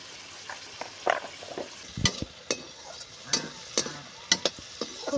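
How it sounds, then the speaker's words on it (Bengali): Potatoes and peas are stirred and fried in oil in a pan in a village kitchen, giving a soft steady sizzle broken by several sharp scraping clinks of the spatula at an irregular rhythm, close up with no talk. "আলুটা আর মটরশুঁটিটা ভেজে নেব"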